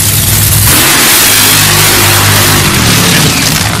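A Top Fuel dragster driven by Tony Schumacher runs during a qualifying round at a drag race, a very loud, saturating engine roar that swells after a brief lead-in and holds steady to the end.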